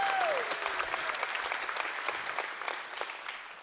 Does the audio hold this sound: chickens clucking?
no